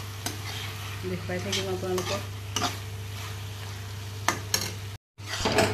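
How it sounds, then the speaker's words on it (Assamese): Banana flower with ginger and garlic for a meat curry sizzles in a pan while a spatula stirs it, giving steady frying hiss with repeated scraping strokes over a low hum; someone briefly speaks. "এতিয়া ধুনীয়াকৈ অলপ সময় ভাজি লওঁ"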